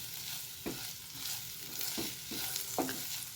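Ivy gourd is tossed with coconut powder and coriander powder in a pan, a quiet sizzle with three or four distinct spoon scrapes spaced through the stir, no voices.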